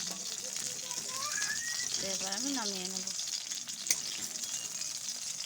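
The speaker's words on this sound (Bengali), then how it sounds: "মাছগুলো আমি এবার একে একে দিয়ে ভেজে নেব" Hilsa fish pieces frying in mustard oil, a loud continuous sizzle throughout while someone speaks briefly over it.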